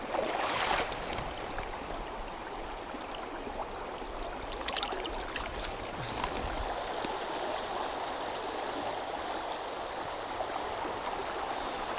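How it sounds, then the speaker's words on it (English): A narrow trout creek flows in freezing conditions, giving a continuous close rushing babble with a brief splash early on and no talking. "The creek's kind of skinnied up a little bit"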